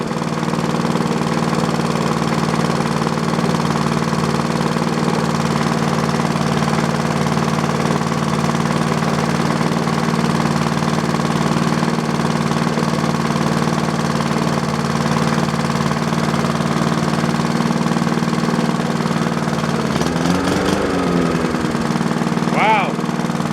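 A 1966 Briggs & Stratton small engine runs steadily on sawhorses with a rusty muffler, a constant loud mechanical drone throughout, with a brief rattling change near the end.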